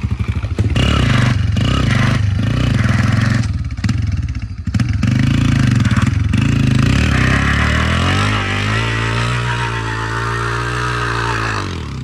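A motorcycle fitted with test brake rotors rides close and loud, its engine roaring and cutting out in bursts, then braking as the engine note falls and settles into a steady idle-like drone.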